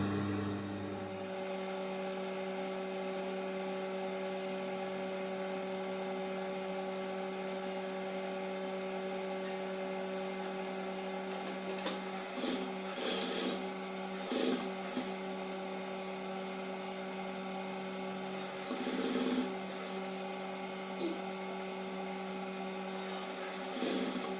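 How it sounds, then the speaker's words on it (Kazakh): A sewing machine stitches patchwork pieces onto fabric, giving a steady, continuous mechanical hum with several short louder bursts of motor activity near the end, with no talking. "Ендігі кезек осылай тігіп шығамыз."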